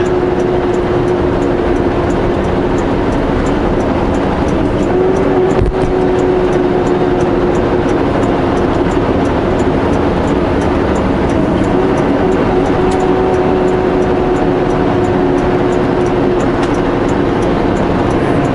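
A Polaris off-road vehicle descending a steep hill gives a continuous, loud engine drone with a steady tonal hum and rough mechanical rumble, unbroken for the whole stretch with no voices.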